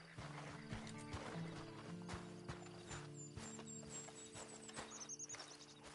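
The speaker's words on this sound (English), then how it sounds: "Then you better get on this horse." Horse hooves clip-clop steadily in the Red Dead Online video game, with a whinny and a tonal game score underneath; the hoofbeats sound moderately close and continue throughout.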